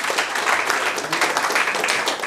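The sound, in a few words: church congregation clapping hands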